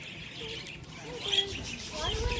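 Budgies at a feeding spot chirp and tweet in short scattered calls, fairly faint against a murmur of background noise and people talking nearby.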